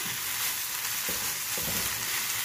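Pizza sandwich filling sizzles hard over high flame while being stirred, a dense continuous frying hiss with a few spoon scrapes standing out, heard alone without talk.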